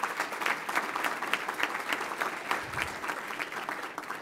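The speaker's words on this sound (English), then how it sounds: "Let's give one more round of applause for all of them." An audience at a Columbus Metropolitan Club forum claps steadily, a dense, even applause filling the room from start to finish.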